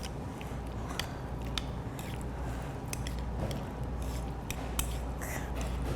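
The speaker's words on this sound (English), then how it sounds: "So here's an egg yolk, and we gotta mix everything in again." An egg yolk is stirred into shrimp wonton filling in a bowl, giving a continuous run of close, wet clicking and squelching with sharper taps scattered throughout.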